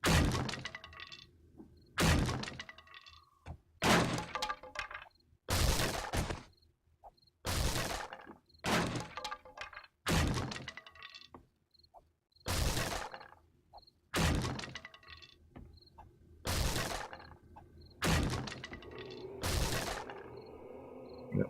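Blocks being smashed apart in 7 Days to Die: a steady series of about a dozen heavy crunching, cracking impacts in irregular rhythm, close and loud, each with a brief rubble shatter and no talk.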